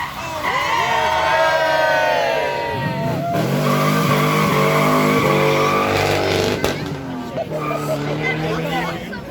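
Supercars rev and skid through a live demonstration run at Beaulieu Supercar Weekend, engines climbing and falling in loud sustained sweeps with tire squeal, while a crowd murmurs and people talk underneath.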